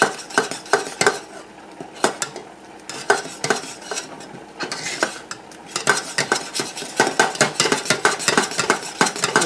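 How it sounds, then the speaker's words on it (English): A utensil scrapes and taps rhythmically against a pan while stirring milk gravy over low heat, clear and close, with steady repeated strokes and a faint sizzle underneath. "that's why I'm constantly stirring too, because I don't want to ever let this boil if I can help it"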